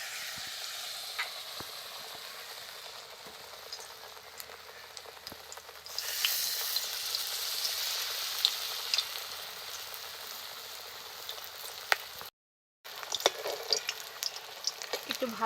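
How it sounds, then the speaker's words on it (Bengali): Battered pumpkin flowers fry in hot oil, a close, continuous bubbling sizzle that swells louder partway through, with a brief dropout near the end before the frying resumes. "একটু ভালো করে মুচমুচে করে ভেজে নেব।"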